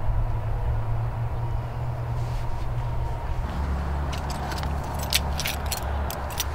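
Keys jangling as they are handed over from one person to another, a light metallic rattle and jingle close by over a low rumbling background hum, with brief bright clinks toward the end.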